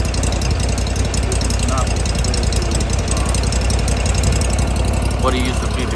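A used Scag Cheetah mower engine runs steadily after a valve cover gasket change, a continuous close idle with a knocking, rumbling texture, while someone talks over it.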